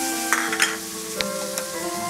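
Chopped ripe mango and grated raw mango roasting in a pan, a continuous sizzle broken by a few sharp scraping stirs, close and fairly loud with a low hum underneath.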